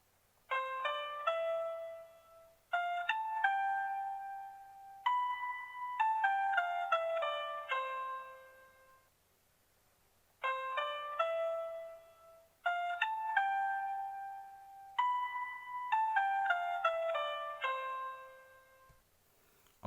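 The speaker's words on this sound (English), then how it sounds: "the second one was the sound of piano" Piano playing a melody, notes struck and decaying in short phrases separated by brief gaps, a longer pause midway, clear and alone with no voices.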